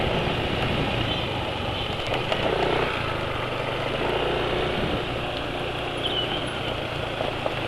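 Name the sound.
engine idling with Mesran SAE 40 oil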